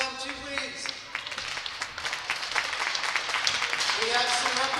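Applause from a crowd at a high school hockey game honoring the varsity team, scattered clapping at moderate distance running beneath a voice on the public address.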